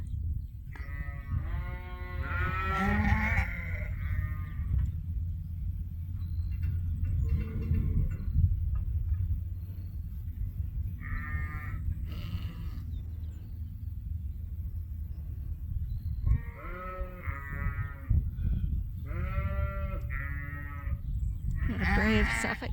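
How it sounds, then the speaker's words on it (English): Dorset ewe lambs bleat repeatedly in a farm pen, several overlapping calls near and loud over a low rumbling background, with brief pauses between bursts. "We're just gonna see which of these ewe lambs want to come out."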